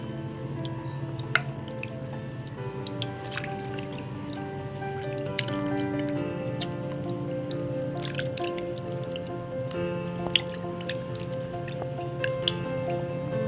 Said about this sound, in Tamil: நல்லா இப்படி தண்ணிக்குள்ளே வச்சு வாஷ் பண்ணிங்கன்னா அந்த இதெல்லாம் ஈஸியாக போயிடும்.